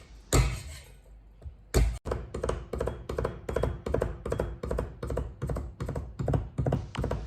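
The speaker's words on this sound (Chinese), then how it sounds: "再来几粒大蒜，用刀拍匀剁碎" Garlic cloves are smashed with two heavy flat-blade thumps, then minced with a knife in a rapid, steady run of close chopping taps on a board.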